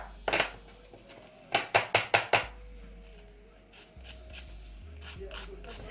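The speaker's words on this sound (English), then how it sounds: "So we're just gonna continue to file off the polish." Nail file scraping gel polish off a fingernail: a run of short, close, gritty rasping strokes in a quick rhythm, then quieter, slower rubbing with soft background noise.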